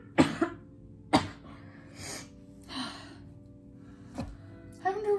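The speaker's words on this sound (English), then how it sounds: "I wonder why my cough is so bad." A person coughs in several sharp bursts, with throat-clearing and gasping breaths between, close and fairly loud, plus brief vocal sounds near the end.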